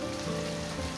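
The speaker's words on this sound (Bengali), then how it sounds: "দেখলাম বৃষ্টি হচ্ছে, এটাই বেশ ভালো লাগবে বৃষ্টির দিনে সকাল সকাল" Steady rain falling on a rainy morning, an even, continuous patter with no voices over it.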